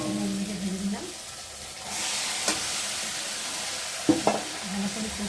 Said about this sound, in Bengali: চিকেনগুলোকে ভেজে দিলাম